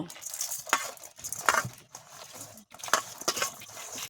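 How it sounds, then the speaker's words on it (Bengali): Eggplant pieces being tossed and rubbed with salt, turmeric and sugar in a bowl, giving close, soft rustling and scraping in three short bursts with brief pauses between. "নুন হলুদ দিয়ে বেগুনগুলো মাখিয়ে নেব।"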